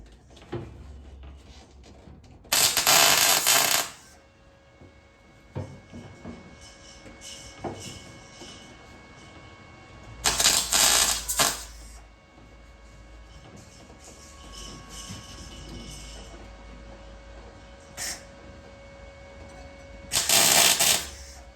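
Tack welds join roll cage base plates on a Nissan S13, three short bursts of crackling, sizzling arc noise about a second each, separated by quieter pauses with small clanks and shop background.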